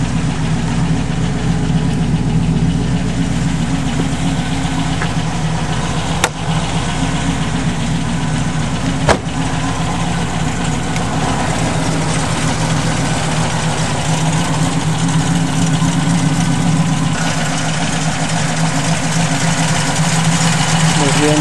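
A TVR Griffith sports car engine idles steadily after start-up following a winter layup, a low, rumbling drone, close by and continuous, with a couple of brief sharp clicks partway through.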